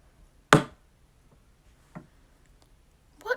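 In a classroom, a pencil taps a desk as a signal: one sharp, close tap, then a softer second tap after a pause, with a voice starting at the end.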